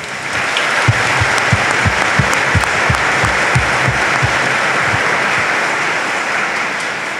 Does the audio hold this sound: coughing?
no